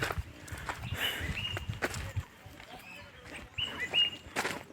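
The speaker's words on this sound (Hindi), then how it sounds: "आप सुन सकते बर्ड सार्मिंग" Birds chirp and call intermittently in a Himalayan forest on the walking route from Dehradun to Mussoorie, the calls fairly clear over nearby footsteps and soft rustling outdoor ambience.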